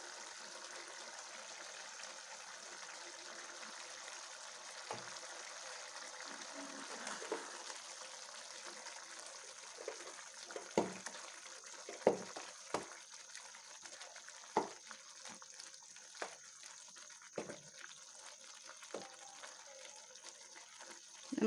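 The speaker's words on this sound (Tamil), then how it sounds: "இப்போ நான் இந்த ஜார் வந்து அலசி ஊற்றுறேன்" Water is poured and swirled in a blender jar while cooking veg kurma. Soft, steady trickling and splashing run close by in a quiet kitchen, with scattered clinks and taps.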